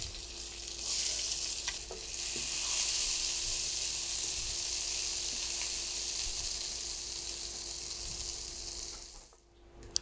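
Two onions hit hot mustard oil for a fish curry and set off a loud, steady sizzle that hisses on for about ten seconds before easing slightly at the end, with no talking.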